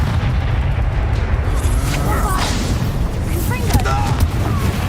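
Booming fire-spell blasts from Hogwarts Legacy gameplay, dense low rumbling explosions running continuously through the scene with a busy, roaring game mix.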